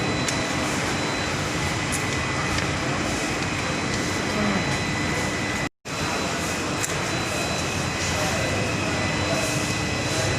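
Aircraft engines at Guwahati airport, heard close by as a loud, sustained roar with a steady whine across the whole span, dropping out briefly for a moment midway before resuming.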